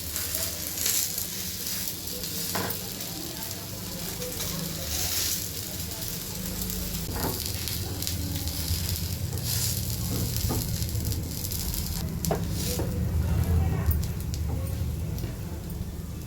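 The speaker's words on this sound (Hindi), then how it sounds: "फिर से हल्का सा तेल डाल देंगे। बाकी तो उसको भी इसी तरह से सेक लेंगे।" Semolina batter toast fries in oil on a pan over a medium flame, giving a steady, close hiss of sizzling that runs throughout, with occasional soft scrapes and faint background voices.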